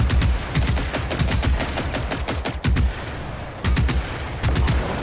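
Hunter robot firing in Generation Zero, loud rapid bursts of machine-gun-like shots in repeated volleys, close and dominant with no talk.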